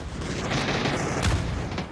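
Dense gunfire in a PUBG clan battle on the Miramar map, a continuous clatter of overlapping shots with a sharper burst near the middle, loud and unbroken across the whole stretch.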